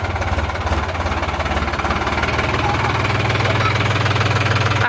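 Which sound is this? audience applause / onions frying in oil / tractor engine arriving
tractor engine arriving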